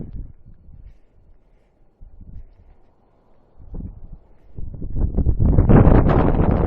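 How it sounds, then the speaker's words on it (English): Wind buffets a nearby microphone in uneven gusts at Karatsu, Japan, weak at first and building into a loud, sustained roar toward the end. "It's pretty windy here"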